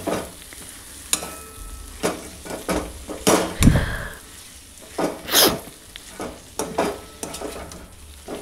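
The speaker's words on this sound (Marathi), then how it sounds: "त्यामध्ये मी पिळलेली कारली आहे ती मी यामध्ये टाकते आता आणि ती छान अशी परतवून" Squeezed bitter gourd being stir-fried in masala in a pan: a low steady sizzle broken by repeated scraping strokes and clattering stirs, with a few louder clanks and bursts, close and alone without speech.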